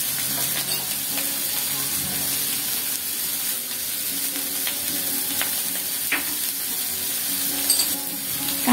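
Spices frying in a pan for a Bengali rohu fish curry, a steady broadband sizzle with occasional stirring scrapes running continuously and fairly loud, no voices.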